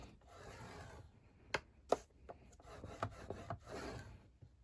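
Paper being scored for an envelope gusset gives soft, close rubbing and scraping strokes with a few sharper taps, quiet and irregular over a few seconds.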